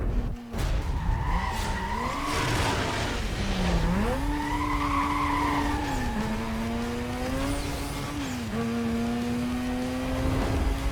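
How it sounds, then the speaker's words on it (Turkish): A race car in Need for Speed Most Wanted spinning its wheels at a race start, a loud sustained tire squeal that wavers and rises in pitch over a revving engine, close and continuous with no voices. "Arabanın kalkışında e, patinaj çok fazla onu fark ettim arkadaşlar."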